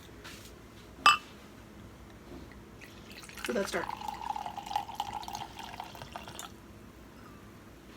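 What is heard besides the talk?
pouring Gigondas red wine into a glass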